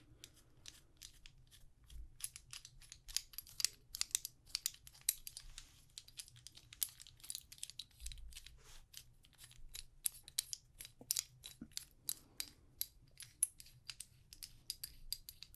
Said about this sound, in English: This is just a tiny little mini pipe wrench.